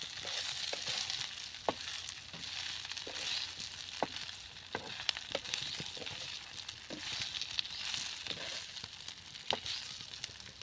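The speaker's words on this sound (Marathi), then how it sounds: "तर हलकीशी आता परतून घेऊया आपण" Bottle gourd vadi are lightly sautéed in a pan over a traditional village-style wood-fired stove, giving a soft, steady sizzle dotted with faint clicks and stirring taps, with no voices.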